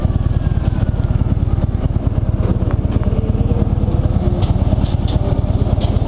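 A motorcycle engine runs steadily and loud while being ridden on a highway, a dense rhythmic throb of firing pulses with wind rumble, and no voices over it.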